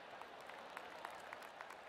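Faint, steady applause from a crowd at a golf event in the PGA Tour video game, a continuous patter of clapping with no one speaking.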